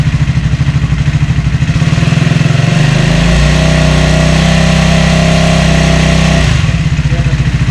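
A Triumph Speed 400 motorcycle engine runs close and loud, its rhythmic idle pulsing, then rising to a steadier higher rev before dropping back to a chugging idle.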